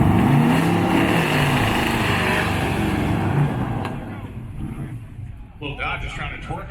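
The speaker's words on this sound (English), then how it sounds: "Charlie Romano out of Florida, New York in the Dodge truck, and Eric Stern in that beautiful square body Chevrolet Silverado." A Dodge truck and a square body Chevrolet Silverado race at a Roadkill Nights drag event, a loud engine roar that recedes over the first few seconds, followed by quieter crowd and commentary noise.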